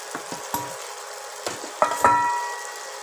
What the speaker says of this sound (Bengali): পটল ভেজে রেখেছি, দিয়ে দিলাম।